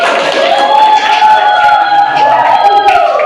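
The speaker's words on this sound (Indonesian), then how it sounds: "Tepuk tangan untuk kelompok Agil." A class of seventh-grade students cheers and claps for a quiz group in a classroom, a loud, crowded wash of voices and whoops with applause mixed in.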